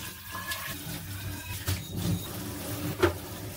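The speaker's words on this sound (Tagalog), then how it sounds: "nugasan ko lang to para malinis lang yung lababo" Tap water runs into a kitchen sink while it is rinsed. The flow is soft and fairly distant, broken by a few brief clattering bumps and splashes.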